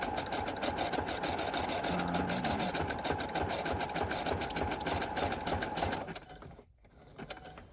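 A sewing machine stitches the edges of a dust jacket journal, its needle hammering in a fast, steady mechanical rhythm close by before stopping abruptly near the end.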